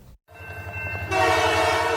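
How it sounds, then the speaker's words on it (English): CPKC holiday train pulling into a Milwaukee stop, its loud air horn blaring close by over the low rumble and clatter of the rolling train, with no voices. "In a blaze of lights, the CPKC holiday train rolls into town"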